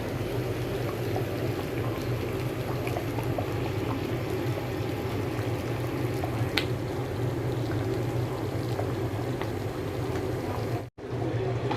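Vegetable khichuri boiling in a pot, a steady low bubbling and simmering that carries on evenly throughout, broken only by a brief dropout near the end, with no talking.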